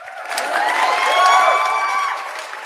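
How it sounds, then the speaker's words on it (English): An audience at a live show breaks into cheering and applause, a brief loud swell of clapping and whoops that rises and fades within a few seconds. "We'll get y'all a round of applause."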